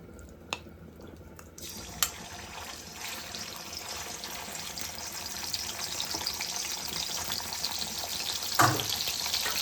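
Sardines frying in oil in a pan, a steady close sizzle that builds after a few light clinks near the start, with a brief louder clatter toward the end and no talking.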